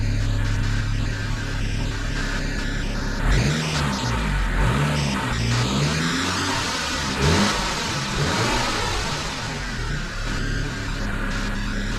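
A 1997 Saab 900 SE Turbo engine idles, then is revved up a little at about three seconds, its pitch rising and falling through a few short blips before settling back, steady and close with no talk.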